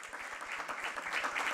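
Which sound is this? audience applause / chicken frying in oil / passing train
audience applause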